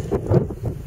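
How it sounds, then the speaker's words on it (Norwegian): Gusty wind blows across a bare mountain top in Telemark, buffeting the microphone in loud, uneven rushes with no voices. "Jeg kan ikke få sagt hvor deilig det er at det blåser i dag altså"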